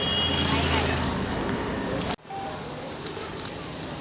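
Dense roadway traffic roars as a loud continuous rumble of vehicles, then cuts abruptly to a quieter street ambience with faint distant sounds and a few brief tones.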